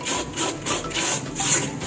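Sandpaper scrapes back and forth over wood in quick, even rasping strokes, close and steady, with no voices.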